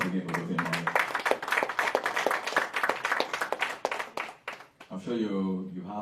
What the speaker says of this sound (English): Round of applause again for Dr. Emmanuel.